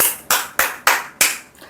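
Several sharp hand claps ring out one after another in a steady, slightly uneven rhythm, close and crisp with short decays, with no voices over them.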